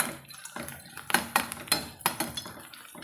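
Fresh curry leaves are stirred into onions in a pan, with a spoon clinking and scraping against the metal in quick, close, uneven strokes over a faint frying hiss.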